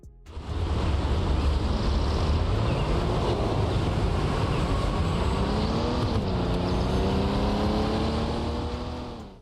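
Engine of a car driving in the mobile open-world game Parking Master Multiplayer 2, a steady loud drone with rising and falling pitch as it accelerates and shifts, heavy wind-like rush throughout, no talk.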